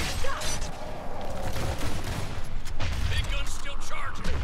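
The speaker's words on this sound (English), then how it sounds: "I just love the shot burst sniper." Rapid bursts of sniper gunfire in the video game Evolve crackle amid dense, noisy combat sound effects, loud and continuous with repeated sharp shots throughout.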